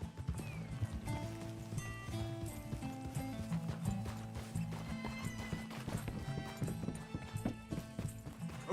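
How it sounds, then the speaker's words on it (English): Horse hooves clip-clop steadily in Red Dead Redemption 2 at Clemens Point, mixed with whinnies and a busy game soundtrack, with no talking over them. "Get that horse in line."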